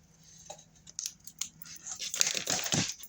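Scissors snip through paper for a scrapbook album, a quiet close run of small cuts and crinkles that grows busier toward the end.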